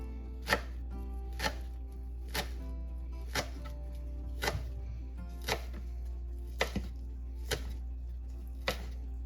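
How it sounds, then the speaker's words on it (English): Knife chopping vegetables for a pasta salad on a cutting board, about a dozen sharp, evenly spaced knocks over a low steady hum, close and distinct. "I'm just going to turn it once and chop it the other way so you don't have too big of pieces"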